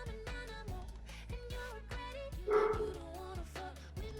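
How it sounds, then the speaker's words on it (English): A dog barks repeatedly in quick, uneven bursts, fairly close, with a few higher yips mixed in. "He's probably barking at the vacuum cleaner."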